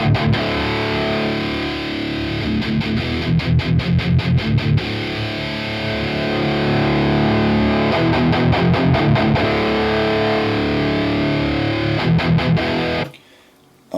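A heavily distorted electric guitar played through a Torpedo Live plays thick sustained chords with bursts of chugging palm-muted strums, cutting off abruptly near the end.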